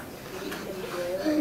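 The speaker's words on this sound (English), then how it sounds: "green and blue parrot." A pet green and blue parrot gives a few short, close whistled calls that rise and sharpen toward the end, over a faint room hum.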